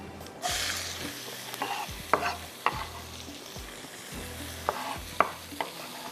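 Onions frying in oil in a pan for a matar aloo pulao, with small and large cardamom and fennel already in, giving a steady sizzle broken by several sharp scraping clicks of a spoon stirring, close and fairly loud.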